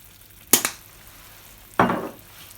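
Ingredients with foraged oregano and marjoram cook down in a grandmother's cast iron skillet: two short bursts of sizzling and stirring rise above an otherwise quiet background.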